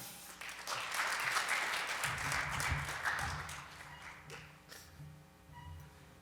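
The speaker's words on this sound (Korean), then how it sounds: "나오실 때 큰 박수로 환영해 주시기 바랍니다." Audience applause welcoming a presenter to the stage at a tech conference session, a swell of clapping that builds quickly, holds, then gradually thins out with a low hum underneath.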